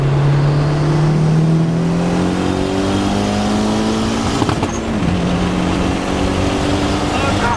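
A turbocharged Honda Civic revs hard under full throttle, its engine note climbing steadily in pitch over several seconds, loud and close from inside the car, with voices talking over it.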